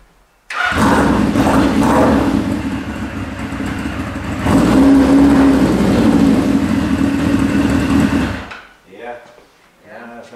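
An old vintage motorcycle engine with a good battery fires up easily and settles into a loud, steady idle, then revs higher for a few seconds before shutting off, with people talking nearby afterward.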